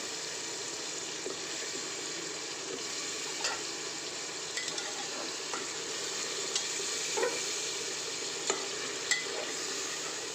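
Beef and chickpea lentil curry sizzles steadily in a pot while potatoes are added and stirred, with a continuous frying hiss and scattered light scrapes and clinks, close and without voices.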